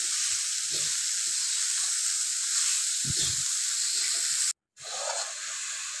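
Steady bright sizzling as grated coconut and sugar cook in a pan while a spatula stirs them, with soft scraping knocks, a brief silent cut, then the hiss resumes slightly quieter.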